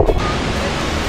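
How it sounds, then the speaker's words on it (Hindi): Wei Sawdong waterfall in India sends a steady broadband rush of falling water, loud and continuous, with no voices over it during the short stretch. "जो वाटरफॉल था वो मेरे पीछे ही है"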